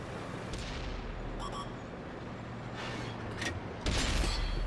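Tank cannon fire in World of Tanks on console, with several deep booms and sharp blasts over rumbling battle noise, while a voice talks over the action.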